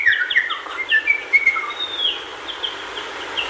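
A person whistles a convincing imitation of a bird call, a series of short chirps and sliding tweets followed by a longer high whistle, clear and close with no talking.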